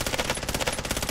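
Rapid automatic gunfire in the Warzone battle royale game, dense overlapping bursts from several directions filling a short stretch at steady loudness with no talk.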